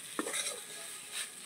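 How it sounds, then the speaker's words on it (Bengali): Turmeric and chilli powder stirred into a pointed gourd (potol) filling in a pan, a brief spoon knock followed by soft scraping and a gentle sizzle, close and quiet. "এগুলো একটু মিশিয়ে নিলেই কিন্তু রেডি হয়ে যাবে পুর"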